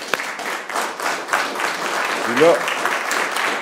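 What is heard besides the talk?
audience applause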